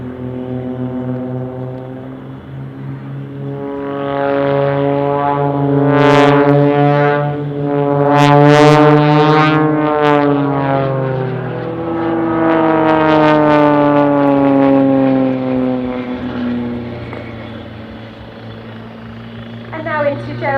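The Blades aerobatic team flying a synchronised display at Dunsfold Wings and Wheels 2018, propeller engines droning loud and rising and falling in pitch as the aircraft pass close overhead, with a commentator talking.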